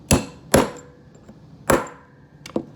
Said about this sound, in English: Give it a couple of whacks with my hammer